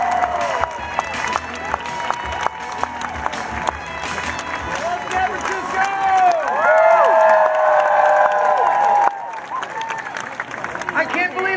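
A large crowd at the 2017 San Francisco science march cheers and applauds loudly and steadily, building to a peak before dropping off suddenly, with scattered shouts and whistles mixed in and voices audible through the noise.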